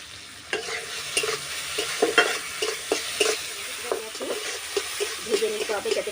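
Mustard paste sauce sizzles in a pan with softened tomatoes, amchur and salt for a Medinipur-style bori fish sour curry, with steady frying hiss broken by repeated scraping stirs of a spatula.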